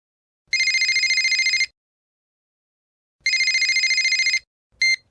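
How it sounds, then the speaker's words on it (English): A telephone rings in two long electronic bursts with a pause between them, then a brief third burst is cut short, loud and close in an otherwise silent room. "Jeff and Rosa are talking on the phone."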